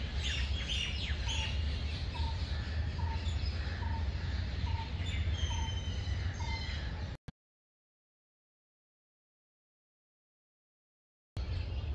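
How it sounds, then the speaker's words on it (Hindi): Small birds chirping and twittering in a lively outdoor chorus, with repeated short tweets over a steady background hum for about seven seconds before the sound cuts out to silence. "परिंदों की आवाज़ों को, इंचरा और कलरव सुनते"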